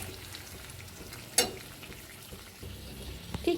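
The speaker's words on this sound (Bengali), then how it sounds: "দেখুন মাংসটা কষে কিভাবে তেল বেরিয়েছে" Mutton curry pieces fry and sizzle in hot oil in a pan, a steady close crackle with stirring scrapes and one sharp clank of a utensil partway through; no one speaks.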